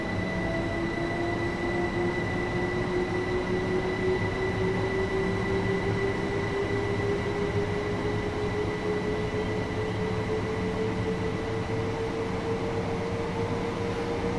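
A train in the Train Sim World simulator rolls steadily along, its even mechanical rumble joined by long rising tonal whines and a thin steady high tone, continuous and close with no talking.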